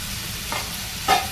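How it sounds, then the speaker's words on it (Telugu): Ivy gourd and tomato frying together in a pan, a low steady sizzle broken by two brief scraping stirs, the second louder, heard close with no voices. "టమాటా వేగుతుంది కదా దొండకాయ వేగుతుంది కదా"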